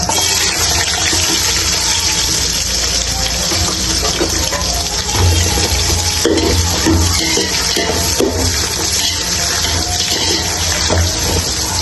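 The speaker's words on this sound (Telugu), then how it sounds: "సో నెక్స్ట్ ఇక్కడ మనము 1 కప్పు వరకు కట్ చేసిన ఆనియన్స్ వేస్తున్నాము" About a cup of chopped onions sizzles in hot oil with green chillies already fried, a steady broadband hiss that runs loud and unbroken for biryani.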